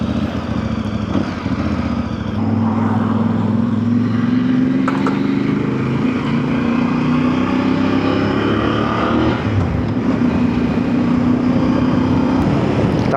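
A Voge DS800X Rally motorcycle engine drones steadily while riding on the road, loud and close, its pitch rising and dropping gently as the throttle shifts, with no voices over it.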